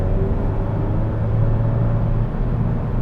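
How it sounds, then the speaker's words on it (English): A 2021 Kia K5 GT with a 2.5 liter engine drives in a low gear in manual mode, heard from inside the cabin as a steady, loud, low engine drone and road rumble without voices. "You can hear the engine right now."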